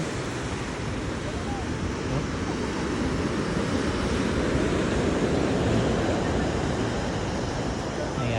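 Loud, continuous surf roars with waves washing in at Baluarte, Luna, La Union, mixed with gusting wind buffeting the microphone; a voice is faintly present beneath.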